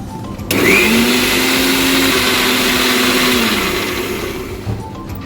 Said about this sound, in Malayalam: കുറച്ച് വെള്ളം കൂടി ഒഴിച്ചിട്ട് നമുക്ക് അരയ്ക്കാം